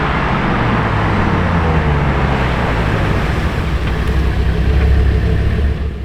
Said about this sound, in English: this is how the Revuelto sounds.